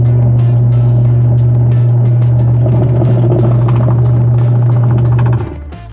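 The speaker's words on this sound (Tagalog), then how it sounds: "Malakas tong motor na to, 150 watts to eh." A 150-watt washing machine motor runs loud and steady with a strong low hum and mechanical rattle for about five seconds, then cuts off abruptly near the end, leaving faint residual noise.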